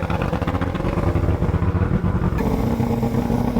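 A bass boat outboard motor revved during winterizing while oil is injected, a loud continuous rough engine drone with fluttering pulses throughout, close and steady.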